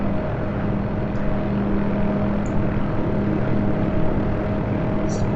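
A Hughes OH-6A helicopter in the DCS flight simulator hover-taxis at an airbase, its engine and rotor making a loud, continuous drone with a steady hum and no talking.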